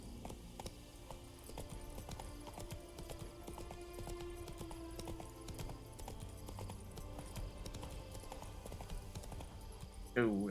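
Roach the horse's hooves clip-clop steadily in The Witcher 3 video game, a continuous run of hoofbeats under game ambience with someone talking over them throughout.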